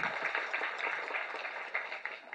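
An audience at a Tamil film event applauds the music director. The clapping is a steady, fairly quiet patter that continues without a break through the short stretch.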